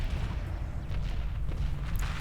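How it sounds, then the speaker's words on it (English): Heavy fire and explosions strike a ship in the Homeworld video game, producing a steady, low, rumbling barrage of overlapping booms with sharper bursts scattered through. "Internal explosions on all decks."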